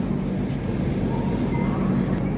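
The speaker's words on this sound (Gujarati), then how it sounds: "આપણે પહોંચી ગયા છે અત્યારે વિરમગામ અને આપણી ટ્રેન 5 મિનિટ ઊભી રહે" A passenger train standing at Viramgam station gives off a constant low rumble and hum of idling railway equipment, loud and close, with no clear voices over it.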